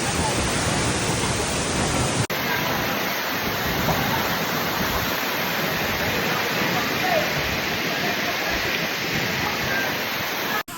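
Tiu Kelep waterfall near Senaru in North Lombok roars as a steady, loud, broadband rush of falling water, unbroken and close for the whole stretch, with a slight shift in texture after the first couple of seconds.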